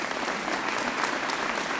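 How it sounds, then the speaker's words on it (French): Audience applauding at a mayor's New Year address in Castets, a steady, even wash of many hands clapping together from the hall, moderately loud and sustained, with no voices over it. "Vous pouvez l'applaudir"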